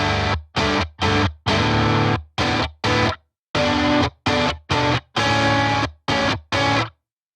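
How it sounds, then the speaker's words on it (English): Left and right distorted electric guitars play a chorus in choppy, rhythmic chord stabs, thick and loud with short gaps between the hits, and no talking over them. "These are going to be the main kind of distorted guitars for this chorus."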